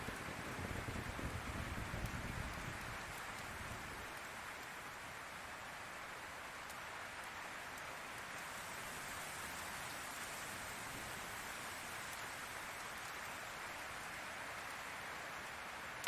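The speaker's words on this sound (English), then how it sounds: "the sound of the rain tapping against the roof and windows is soothing" Steady rain taps on the roof and windows of a log cabin in a forest, a soft, continuous, even patter heard alone at low volume.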